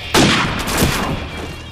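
Machine gun fire in an online video game: a loud, continuous burst of rapid shots with heavy reverberant booms, up close and alone.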